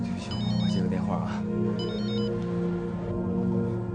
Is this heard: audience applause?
no